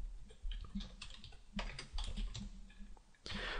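Someone types a command on a computer keyboard, a quick close run of uneven clicky keystrokes in short bursts, ending in a denser flurry of taps, with no voices.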